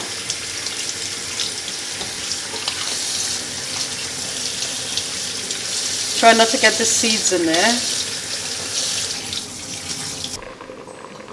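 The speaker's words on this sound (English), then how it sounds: "We'll rinse it a couple of times." Running tap water splashes steadily in a sink as food is rinsed, with a brief louder gush midway and a person speaking briefly over it.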